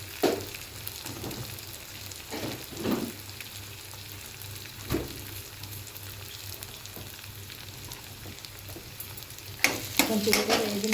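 Curry leaves crackle and sizzle in hot oil in a pan for a brinjal curry, a constant frying hiss broken by several loud stirring scrapes and a burst of sputtering toward the end.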